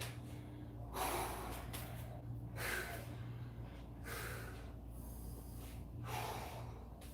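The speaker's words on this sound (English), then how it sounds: "Big inhales and exhales." Heavy breathing follows a squat workout, with deep, hissing inhales and exhales through nose and mouth at a slow, regular pace. The breaths are close but quiet, each one a few seconds apart, over a low steady hum.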